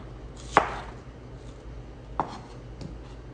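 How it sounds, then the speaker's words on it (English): A sharp knife slicing through an onion on a board, producing a few distinct crisp chops spaced apart, close and fairly quiet. "just kind of go through and slice them about a 1/4 inch thick"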